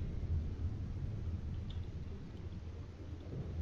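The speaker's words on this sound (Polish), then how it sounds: "Burza magnetyczna." A magnetic storm in the Subnautica Below Zero video game gives a faint, steady low rumble that continues without a break and with no other sounds over it.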